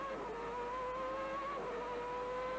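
Formula One cars racing at the German Grand Prix, a sustained high engine whine holding a steady pitch with a slight downward bend, loud and continuous, with no talk.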